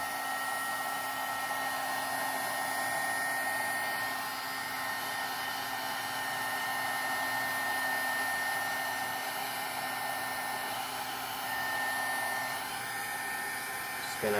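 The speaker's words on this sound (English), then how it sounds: "I'm gonna see if I have my heat tool here. I'm gonna heat these." A crafting heat tool blows steadily to dry distress oxide ink, a constant loud whirring hum with an airy hiss that runs unchanged for the whole clip.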